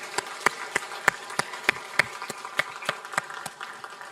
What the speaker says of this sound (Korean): 우리 박수로 격려해 주시기를 바랍니다